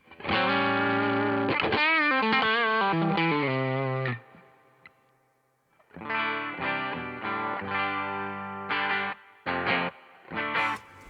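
Overdriven electric guitar chords through an amp ring out with a wash of Electro-Harmonix Holy Grail reverb, pause briefly, then return in choppier bursts.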